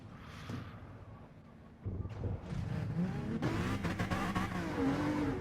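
In a sim racing game, a race car with worn-out tyres spins its wheels on grass. The engine revs climb and grow louder across a few seconds, with rising, whining tones and no talking.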